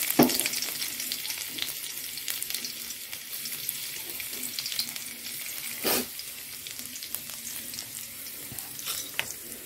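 Garlic, dried red chili, nigella seeds and onion sizzle steadily in hot oil, a dense continuous crackle with a few sharper spits and clinks, no voices over it.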